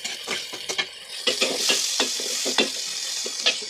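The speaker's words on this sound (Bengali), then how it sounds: "এটার জন্য এখানে পেঁয়াজ দিয়ে বসিয়ে দিয়েছি।" Onions sizzle in a hot frying pan for a fish roe dish, a close, steady crackle broken by repeated sharp scrapes and taps of a stirring utensil, with no talking.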